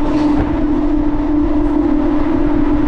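A Bardhaman–Howrah chord line local train runs at speed, a loud continuous rumble and drone heard from on board with no break.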